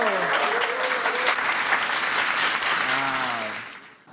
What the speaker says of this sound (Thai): ส่งเสียงปรบมือให้เพื่อนๆหน่อยเร็ว